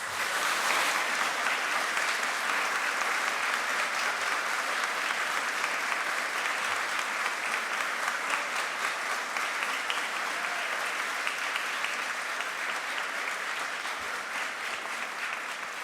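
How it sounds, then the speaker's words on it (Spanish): Sustained applause from the audience at a Chilean Supreme Court swearing-in ceremony for new lawyers, a dense, steady clapping that holds evenly throughout and eases slightly near the end. "El público les puede brindar un merecido aplauso."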